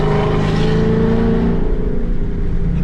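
A Ford Mustang fitted with longtubes and a Borla ATAK exhaust pulls hard, its loud, raspy engine note steady and close, then easing slightly in pitch as the run continues, with no talking.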